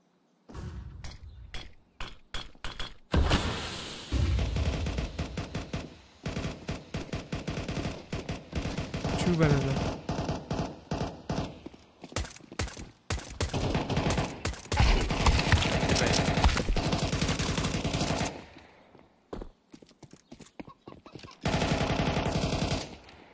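Video game gunfire comes in rapid, loud bursts of automatic fire, broken by short pauses and a few near-silent gaps.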